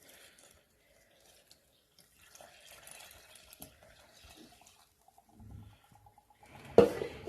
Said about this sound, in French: Et nos 800 ml d'eau tiède.